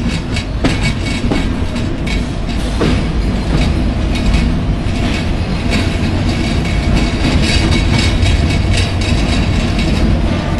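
A Padma Express passenger train rolls into Rajshahi station, with a steady, dense rumble and rhythmic rail clatter throughout, recorded close from on board with no talk.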